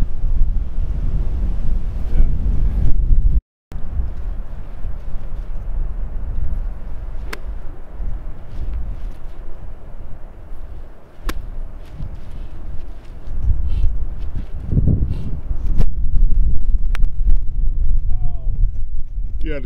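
Strong wind buffets the microphone in heavy low rumbling gusts on a golf course, with people talking intermittently underneath and a few sharp knocks.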